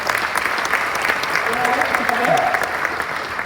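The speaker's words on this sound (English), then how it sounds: "And I think that is worth a round of applause." Audience at the closing remarks of a hackathon event applauding, a dense sustained round of clapping across the whole stretch with voices faintly audible underneath.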